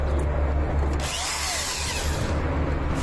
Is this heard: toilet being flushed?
no